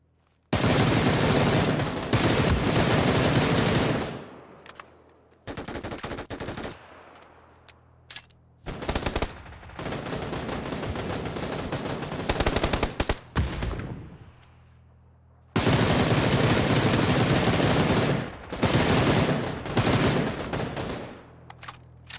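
Video game gunfire sounds in loud bursts of rapid automatic fire and single shots, separated by short pauses and quieter stretches, fairly close and dominant, with no talking over it.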